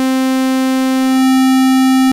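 Synthesizer sawtooth waveform held as one steady, bright, buzzy tone rich in harmonics, loud and alone for about two seconds before cutting off abruptly.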